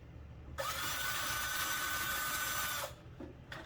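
A power drill bores holes in parts of a Hangar 9 Carbon Cub 15cc ARF RC model airplane, giving a steady, close whine for about two seconds that then stops, followed by brief faint handling noise.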